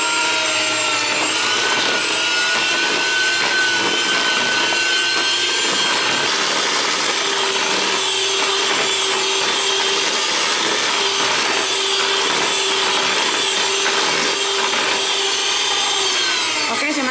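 An electric mixer runs steadily at low speed through nastar cookie dough, a continuous motor whine with soft rubbing and churning that holds for the full stretch without talk.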